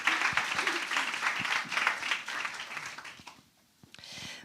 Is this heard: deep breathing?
no